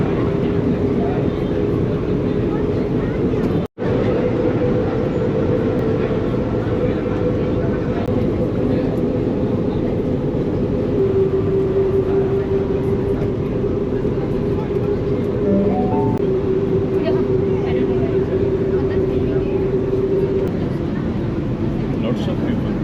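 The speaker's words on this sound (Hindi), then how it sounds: "KL सेंट्रल जाने के लिए यानी कि बातू केव जाने के लिए ट्रेन आ गई है," A Rapid KL rail train in Kuala Lumpur, bound for KL Sentral, arrives and runs on: a steady, loud rumble with a sustained tonal whine, broken by a sudden cut near the start.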